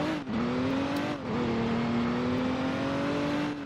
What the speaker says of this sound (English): Alright, we're getting back in our car.